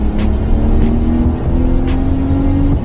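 A 2025 Ram RHO pickup truck's engine pulls hard around 3,500 RPM, a loud, close, steady drone with a rising tone, heard from inside the cab.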